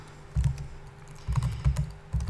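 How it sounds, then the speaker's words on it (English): Typing on a computer keyboard, close and clear, in bursts of rapid key clatter with short pauses between them, and no talking. "so the typing is a bit loud"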